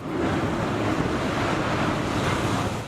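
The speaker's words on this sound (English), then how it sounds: "This created a wave which swept right up onto the road and went into the fields nearby" Broad rushing surge of water, like a large wave sweeping onto a shore after a ship launch, steady and loud throughout with wind noise over it.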